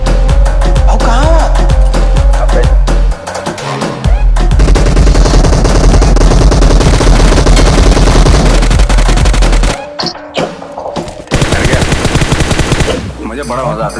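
Rapid machine gun bursts and gunshots ring out loudly in PUBG Mobile on the Livik map, nearly continuous with short gaps and a few pauses between volleys, while voices talk over the firing.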